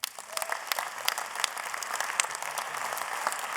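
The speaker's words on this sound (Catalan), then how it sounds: "mira que t'aplaudeix la gent i tot" An audience applauds at the Premis Vinari 2024 awards gala, with steady dense clapping throughout the whole stretch at moderate volume and no voices.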